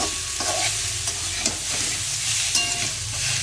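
Spices, potatoes and chili fry in hot oil for a no-onion no-garlic fish dish, giving a dense steady sizzle close up, with periodic scraping knocks as the mixture is stirred.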